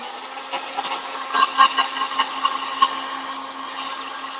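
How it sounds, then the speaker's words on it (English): An electric heat tool runs with a steady whirring blow, rattling unevenly for a few seconds before settling into a smooth hum, alone without talk. "heat tool."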